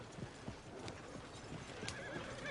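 A horse near stables in a video game clops its hooves in a loose, uneven rhythm and gives a brief whinny toward the end, all fairly faint and distant.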